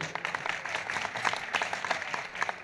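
A devotional bhajan gathering with Shri Indresh Ji Maharaj breaks into steady audience applause honouring a music composer, a dense, even wash of many hands clapping that carries on without a pause.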